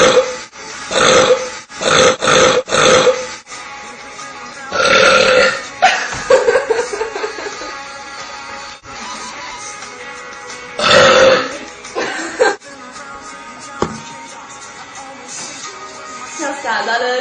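Loud, drawn-out burps from two girls, several long belches in bursts with pauses between, some sounding growly like a lion, with voices talking in between.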